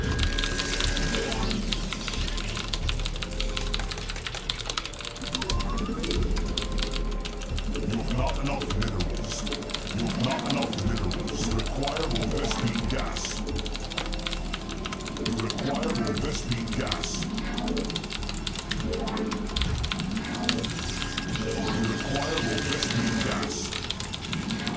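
Fast, continuous clatter of computer keyboard keys during a StarCraft Protoss team match, dense rapid tapping running throughout with a person talking over it.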